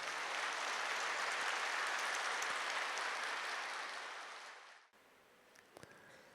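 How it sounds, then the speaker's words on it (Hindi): A large audience claps loudly and steadily in a hall during a spiritual talk, the dense applause holding for several seconds before cutting off abruptly and giving way to near silence. "एक बार जोरदार तालियां बजाओ अपने।"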